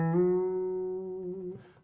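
One electric guitar string is bent up to the next note of the major scale, a clean sustained tone that rises briefly, holds steady and fades after under two seconds.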